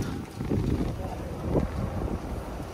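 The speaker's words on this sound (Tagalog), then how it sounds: "Ang lakas ng hangin oh." Strong wind roars and buffets against the microphone in a steady low rumble with gusty surges, while voices murmur faintly underneath.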